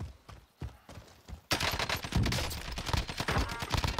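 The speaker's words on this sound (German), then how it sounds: "Schüsse vor uns." Rapid bursts of automatic gunfire from a firefight in Call of Duty: Warzone, sparse sharp shots at first, then a dense, loud, sustained fusillade with overlapping cracks.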